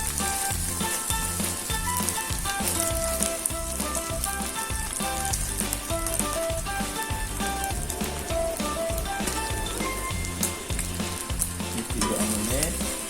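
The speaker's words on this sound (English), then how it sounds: "Okay, and then we will flip the omelette. We flip." An omelette sizzles loudly and continuously in a frying pan as it is flipped, the bright frying hiss running alongside rhythmic, melodic background music.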